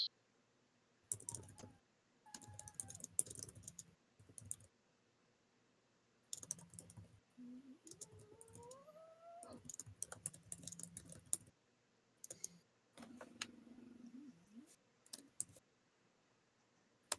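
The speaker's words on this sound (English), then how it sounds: "is typing out our invitation" Someone types on a computer keyboard in quiet bursts of rapid clicks separated by pauses, faint and close, with a few soft tones rising in the background.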